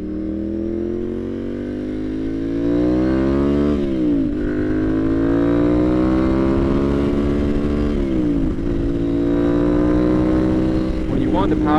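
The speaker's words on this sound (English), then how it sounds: "Yeah, the exhaust is pretty loud on this thing." A Ducati Monster 696 motorcycle being ridden, with a loud, deep exhaust drone that climbs in pitch. It drops briefly at two gear shifts before pulling up again, with wind noise throughout.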